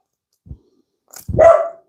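A dog gives a short low woof, then after a pause a louder, longer bark with a growling edge, aimed at a mail carrier at the door, both close and with no talking.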